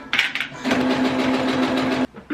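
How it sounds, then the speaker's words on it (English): A sewing machine stitches in one loud, steady burst of about a second and a half, close by, with a few brief knocks before and after. "Let's get to sewing."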